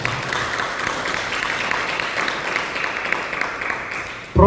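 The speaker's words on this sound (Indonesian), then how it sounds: "Tepuk tangan untuk Tuhan." Church congregation at a Sunday worship service clapping together, a sustained dense wash of applause filling the hall, fairly loud, ending abruptly.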